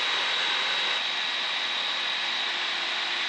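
A light airplane's engine drones steadily in flight, heard from inside the cabin as a loud, unbroken hum and rush of air with no pauses.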